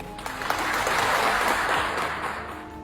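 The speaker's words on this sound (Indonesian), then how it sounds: "Bu Menteri beri tepuk tangan dong" Audience applause for a government minister at an Indonesian official gathering, a dense wash of many hands clapping together, steady and full throughout with no voices standing out.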